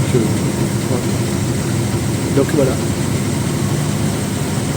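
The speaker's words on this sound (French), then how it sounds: "Il y a encore des vieux bus, mais il faut voir comment ça roule." An old Bangkok city bus engine runs with a steady low rumble and idle-like drone, loud and close, while someone speaks briefly over it.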